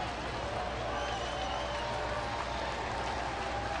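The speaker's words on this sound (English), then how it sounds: "just always good to see the crowd excited about something that's going on at the ballpark" A ballpark crowd at a baseball game cheers and applauds continuously, a dense, even roar of many voices and clapping held at steady volume throughout.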